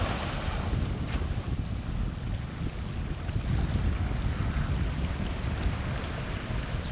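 Steady ocean surf and gusting wind on the shore of Monterey Bay at low tide, a continuous loud rush of breaking waves with rumbling wind buffeting the microphone throughout.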